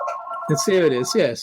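A landline telephone rings in a room, its electronic trill sounding across the whole clip while a person speaks over it nearby.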